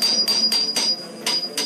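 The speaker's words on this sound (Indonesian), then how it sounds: "Salah satu dari mereka pun mulai memukul tembok tersebut dengan sebuah palu." Hammer striking a wall inside an old building, a run of sharp knocks in quick succession with a short pause before the final two, close and with no talk.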